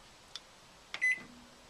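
A microwave oven made for narrowboats and caravans gives a faint click, then a second click and a short, clear control beep as its low power setting is chosen, all heard close up in a quiet room with no talk.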